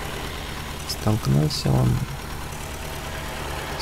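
A tractor engine idling in Farming Simulator 15, a steady low mechanical hum running throughout, briefly covered by someone speaking Russian in the middle.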